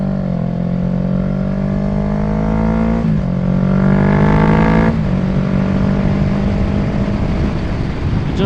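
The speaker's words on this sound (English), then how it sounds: "Gently release the clutch, roll on the throttle." Close and loud, a motorcycle's engine climbs in pitch under a rolled-on throttle after a downshift, with quick dips as gears change and then smooth, continuous acceleration.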